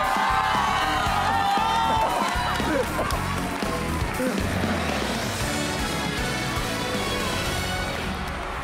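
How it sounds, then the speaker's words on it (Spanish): Studio audience at a televised Christmas singing-contest gala claps and cheers with whoops, loud and dense at first and then easing to a lighter crowd murmur with music underneath. "fuerte el aplauso para ella"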